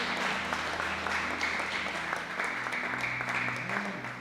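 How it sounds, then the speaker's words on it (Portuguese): A congregation applauds together during a live church worship service, the clapping forming a steady, even wash over a low sustained instrumental hum. "Aplauda Jesus"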